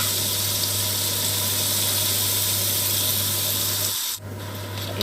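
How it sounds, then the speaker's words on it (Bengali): Chopped onions fry in oil in a kitchen pan, giving a continuous, dense hiss over a low steady hum, with a brief dip near the end. "এরপর ওই তেলেই কুচি করা যে পেঁয়াজটা সেটা দিয়ে দেবো। পেঁয়াজটাকে আমি হালকা করে ভেজে নেব।"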